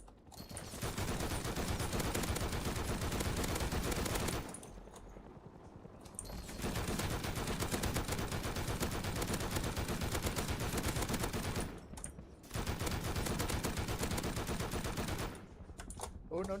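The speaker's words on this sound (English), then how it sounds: "quit shooting at me" Rapid automatic gunfire in the video game Rust, dense and continuous in three long bursts separated by brief lulls, loud and close.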